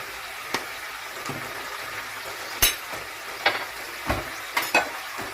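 A spiced kofta mixture with salt, pepper, seven spices and cinnamon is being stirred, giving soft scrapes and a few sharp clinks of a spoon against the bowl over a quiet background, close and with no talking.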